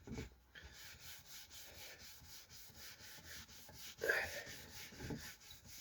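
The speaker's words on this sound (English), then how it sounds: "I'm just going to rub it down with some wire wool now." Fine 40-grade wire wool rubbing down an oiled, stained maple snare drum shell, a soft steady scratchy hiss that runs throughout, with a slightly firmer swell of strokes near the end.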